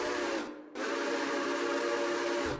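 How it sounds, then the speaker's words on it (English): A steam locomotive whistle, of a type similar to the one on Casey Jones's engine, blows loud and steady with a hissing edge, cutting out briefly before sounding again in a second long blast. "there's also a whistle that's kind of similar to the one that Casey Jones ran"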